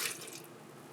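Cold water for pizza dough pours and splashes briefly into a bowl, a short close trickle with a wet, bubbling texture.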